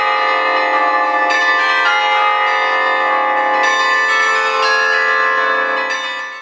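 Carillon bells played in a tower ring out loud and close, a sequence of overlapping struck tones with long shimmering sustain, notes changing every second or so before the sound fades at the end.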